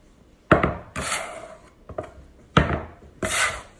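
A knife chops cherry tomatoes on a wooden board for salsa, with several distinct scraping cuts in irregular bursts, close and fairly loud, and no talking.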